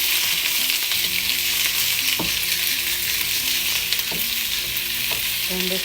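Fish and vegetables frying in a pan for an Arabic fish-and-rice dish, a loud, dense, continuous sizzle with a few faint knocks and stirs, and no speech.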